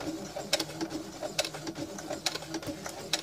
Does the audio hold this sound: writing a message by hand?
no